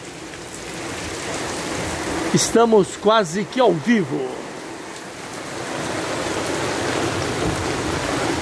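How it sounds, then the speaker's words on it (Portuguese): Fairly heavy rain with wind in Rolândia, northern Paraná, a steady broadband hiss of falling water that continues under a short stretch of someone speaking in the middle. "Chuva até forte, com vento."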